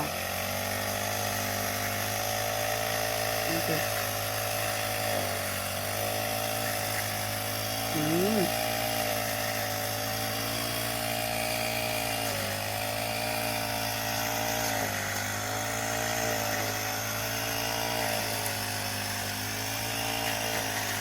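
A motor-driven grass cutter trims grass at a Thai rice farm, its high, whining engine running continuously and rising and dipping in pitch as it cuts, with a voice faintly underneath.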